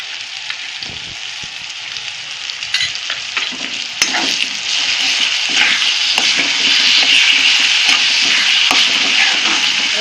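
Ground onion-garlic masala paste frying and sizzling in hot oil in a pan for a black pea curry, a steady loud hiss with occasional stirring clicks and scrapes, no voices.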